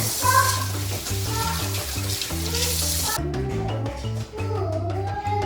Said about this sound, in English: So the first thing is we're gonna wash our hands.